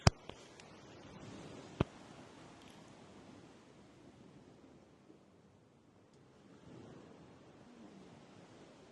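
Ocean waves at a beach in Thailand, a soft, diffuse wash of surf with gentle swells and a couple of sharp knocks near the start, faint and without voices.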